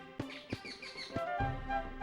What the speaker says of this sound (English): So now we get this nice pretty music and birds chirping and everything